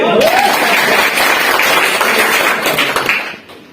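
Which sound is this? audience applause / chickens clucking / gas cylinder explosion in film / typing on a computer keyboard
audience applause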